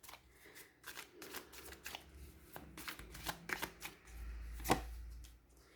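Tarot cards are handled and drawn from a deck during a love reading, with a string of soft, papery shuffling flicks and slaps, close and fairly quiet over a low background hum.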